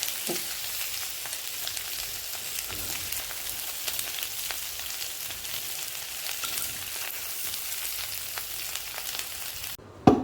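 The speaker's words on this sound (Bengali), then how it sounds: "ভেজে নিব তেলের উপরে" Onions and dried chilies fry in hot oil for a bhorta, giving a steady, close crackling sizzle throughout with scattered sharp pops, and no voices.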